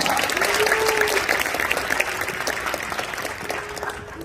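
Warm audience applause at a school graduation ceremony, a full crowd clapping in a thick, steady wash that gradually tapers off near the end, with no talking heard.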